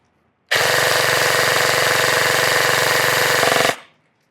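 An EMG Daniel Defense MK18 airsoft electric rifle with a GATE ASTER unit and an 11.1 volt lithium battery fires one continuous full-auto burst of about three seconds, a loud, fast, buzzing mechanical rattle that cuts off abruptly, with no talk.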